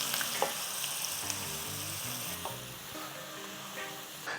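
Heavy cream poured into browned meat in a hot pan for a queso dip, setting off a steady, close sizzle and frying hiss with some stirring clatter throughout.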